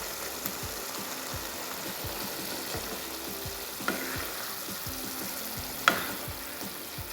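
Green chillies and chopped tomatoes fry in a pan for a Bengali-style cabbage dish, giving a steady, moderate sizzle throughout, punctuated by a few sharp clinks of a utensil against the pan.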